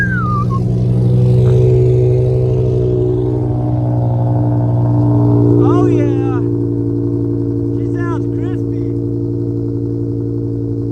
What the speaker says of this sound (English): We're gonna see if the M5 fires up.